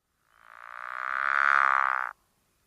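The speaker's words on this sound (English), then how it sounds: "their call sounds like a snore or a mooing cow" Single drawn-out frog call, a low snoring, moo-like croak from a New Brunswick amphibian, swelling steadily over about two seconds and cutting off abruptly, heard close and alone.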